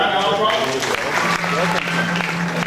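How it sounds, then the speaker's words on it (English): An audience at a formal gathering welcoming a bishop claps in a round of applause, a dense patter of many hands heard together with a speaking voice. "Can we give him a round of applause?"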